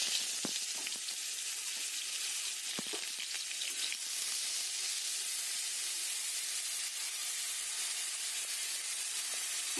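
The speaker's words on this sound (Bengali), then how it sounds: "কড়াইতে এখানে সাদা তেল দিয়ে দিয়েছি, তেলটা গরম হয়ে গেছে। এবার আমি পেঁয়াজটা দিয়ে দেবো" Onion fries in hot white oil in a kadai, giving a steady, even sizzle and hiss that continues without a break, close by and moderately quiet.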